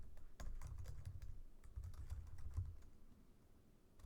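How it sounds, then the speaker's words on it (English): Typing on a computer keyboard, with quick uneven clicks and a few louder key strikes over a low background rumble, heard close and fairly quiet, with no talk. "Oops, sorry, my typing is bad."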